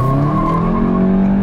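Tires on a German car squeal as they lose traction, a loud sustained screech with the engine droning underneath, close and unbroken for about a second and a half.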